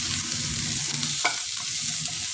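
Steady sizzle of onions cooking in a hot pan, with a brief scrape of stirring midway and no voices.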